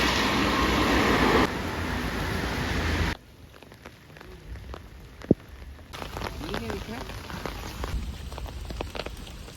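Heavy rain in Germany drums steadily on a surface, then quiets to scattered drips and patter after a few seconds, with faint voices in the background.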